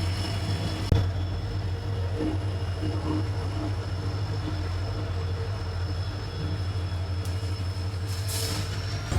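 A train passing a railway level crossing sends a continuous low rumble through the whole stretch, steady and fairly near, with a sharp knock early on and a brief higher squeal near the end.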